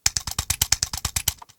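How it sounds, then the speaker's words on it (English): A computer mouse is clicked in a rapid series of about a dozen sharp, close plastic clicks at an even rhythm, fading to a few softer ones at the end. "that's clicking on a mouse"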